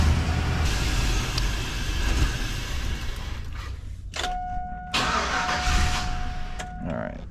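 A GMT800 Chevrolet Silverado 1500 engine cranks and starts during an engine and transmission re-install, catching briefly, then running in short bursts with a steady whine, close by, with talk over much of it.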